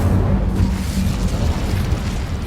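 The Incendio fire spell in Hogwarts Legacy erupts as a loud, close, rumbling whoosh of flame that roars continuously throughout, heavy and dense with no break.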